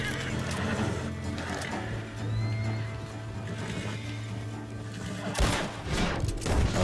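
A horse whinnies over a steady game-like background drone in Red Dead Redemption II, followed by a burst of sharp gunfire near the end.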